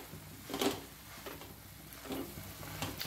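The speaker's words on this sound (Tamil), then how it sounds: "முட்டைக்கோஸ் நல்லா வதங்கியாச்சு" Purple cabbage sautés in a pan for colourful pasta, giving a steady soft sizzle broken by a few scraping bursts as it is stirred.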